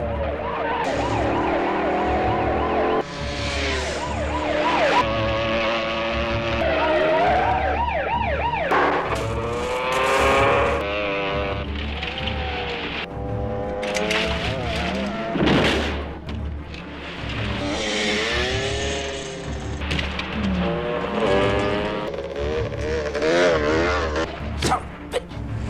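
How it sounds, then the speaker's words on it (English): A police patrol car chases a suspect away from a small town in the 1982 film First Blood. Its siren wails loud and continuous for the whole stretch, over vehicle rumble and bursts of action noise. "Harry jumped into his patrol car and chased after him."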